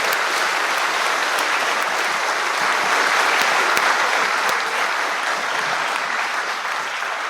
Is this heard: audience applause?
yes